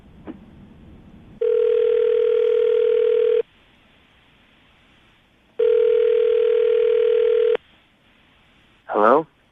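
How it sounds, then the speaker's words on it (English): Telephone ringback tone from an outgoing call, two long steady rings separated by a pause, followed by the start of a voice answering. "we're going to call him right now"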